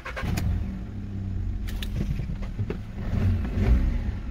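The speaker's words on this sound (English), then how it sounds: "Now we will start the engine." A Volkswagen up! car engine cranks and catches, then settles into a low, rumbling idle with some rattling, close by and steady.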